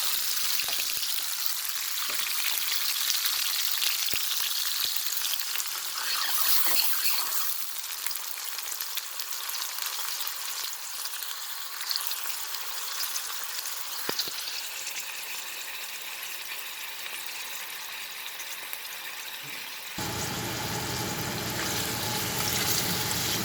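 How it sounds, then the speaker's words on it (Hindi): Garlic and tomato sauté in hot oil for a tomato coconut chutney, a continuous bright sizzle that drops slightly and changes character near the end. "सॉटे इट वेल, हम कोशिश करेंगे इसको अच्छे से सॉटे करने की।"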